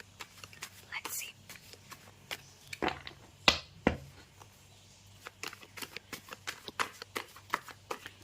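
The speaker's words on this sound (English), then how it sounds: "With how I'm shuffling and shuffling and shuffling and no cards are coming out" Tarot cards are shuffled again and again, giving sharp riffling snaps and soft slides close to the microphone, with whispered speech alongside.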